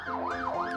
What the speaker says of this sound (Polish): Karetka przyjechała.